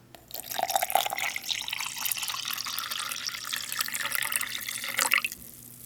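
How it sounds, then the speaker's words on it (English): Twelve ounces of water is poured onto beef taco MRE drink powder, a continuous splashing, bubbling pour that rises in pitch as the container fills, then stops abruptly. "this time we'll put the powder in first, and then we'll add the 12 ounces of water."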